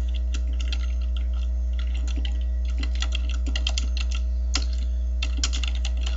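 Code is typed on a computer keyboard, a close run of quick irregular key clicks in short bursts over a constant low electrical hum.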